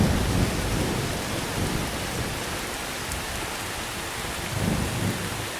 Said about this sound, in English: Then, the first rain of the season finally arrives